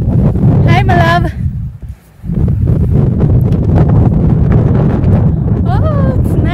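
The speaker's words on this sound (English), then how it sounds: "Oh, it's nice windy here." Wind gusts buffet the microphone during a hike at Sitting Bull Falls, a steady low rumble running under a woman's chatter and briefly dropping off mid-clip.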